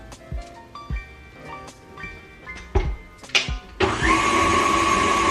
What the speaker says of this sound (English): To our softened butter, we're gonna add our sugar and beat until it's nice and fluffy for about 2 to 3 minutes.